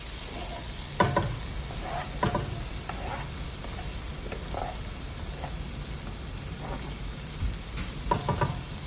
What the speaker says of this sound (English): I'm just going to saute the frozen peas and carrots. Just add in my onions and garlic.